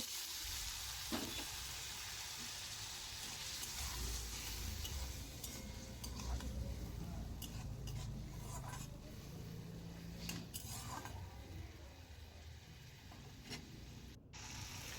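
Paste of chili powder, turmeric and salt cooks down with a splash of water for a fish curry with potatoes, giving a steady close sizzle with scraping stirs and a few clinks throughout.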